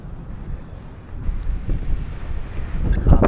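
Storm winds buffet the microphone on the Anglesey coast while high waves crash nearby, a steady roar of gusts and surf growing louder with a heavier surge near the end, no voices.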